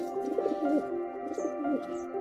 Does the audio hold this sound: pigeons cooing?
yes